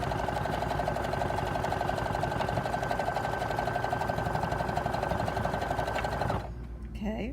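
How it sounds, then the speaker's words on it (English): A sewing machine runs continuously, zigzag stitching trim onto fabric, steady and close for about six seconds before it stops, leaving a quieter tail. "Now, I'm going to sew my trim on here"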